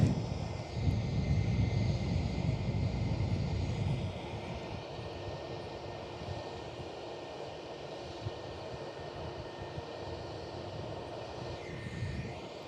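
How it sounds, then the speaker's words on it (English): Boeing 737-800 airliner pushing back from the terminal at Perth Airport, a distant steady engine whine and rumble, louder at first and then easing to a softer hum, with light wind noise. "the service heading over to Denpasar today is pushing back with the 737-800"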